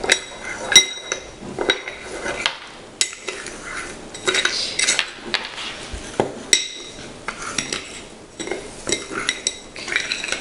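A spoon stirs and scrapes through a sugar lip scrub mixture in a small dish, giving repeated clinks and gritty scrapes in an uneven rhythm, close and fairly quiet, with no talking.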